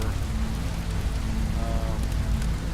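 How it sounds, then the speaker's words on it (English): Steady rain pours down in a survival video game, a dense continuous hiss close and loud throughout, with faint low rumbles beneath and no talking. "This is the first time we've been caught out in the rain in the game."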